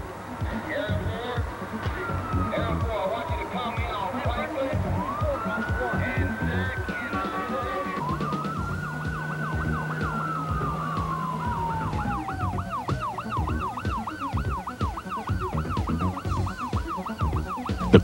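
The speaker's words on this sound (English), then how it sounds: "With lights blazing and sirens blasting, they find a clear path through the streets." Wailing emergency sirens from a 1994 Tampa fire engine responding through city streets, rising and falling sweeps with a rapid yelp pattern, loud and close over road traffic noise.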